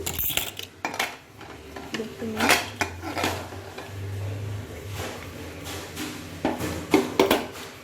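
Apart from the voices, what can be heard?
pressure cooker being opened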